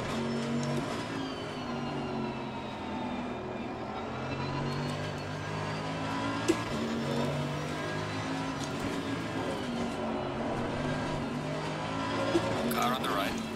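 Mercedes-AMG EVO race cars lapping a track on a coaching run, engines droning steadily with shifting harmonic tones as one car overtakes the other at a corner, a continuous close roar throughout with people talking faintly over it.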